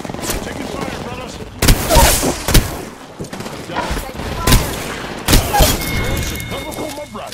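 Bursts of gunfire and heavy thumping shots from a firefight in the Apex Legends battle royale game, with loud repeated volleys and impacts close by and a steady hum of action underneath, while voices talk over the shooting.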